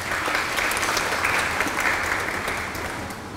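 Audience applause at a Thai panel discussion on the internet in Thailand, greeting a panel speaker; steady, dense clapping from a sizeable crowd, fairly loud and sustained throughout, easing slightly at the end with no talk over it.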